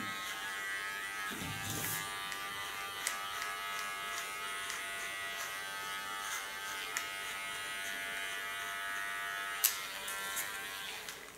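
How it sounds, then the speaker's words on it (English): Electric hair clipper gently shaving the nape of a woman's neck, a steady close buzzing hum that runs continuously with small bumps and brief louder touches. "So I don't even lean on the clipper, so just gently touching her skin."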